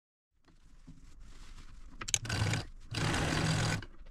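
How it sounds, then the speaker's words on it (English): A sewing machine stitches down the sides of a quilted fabric gift bag: a quiet start, then two bursts of fast, dense mechanical whirring, the second longer, close in a quiet room with no speech. "I'm gonna take it over to the machine and stitch down all four sides"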